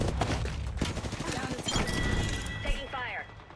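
Incoming gunfire in a shooter video game, with dense rapid cracks and impacts mixed with game effects and a rising synthetic whine near the end, while a voice talks over it.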